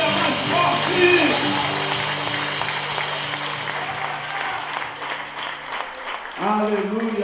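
Congregation in a church service claps steadily and loudly, with voices and sustained tones over the claps and a brief rise of singing or shouting near the end.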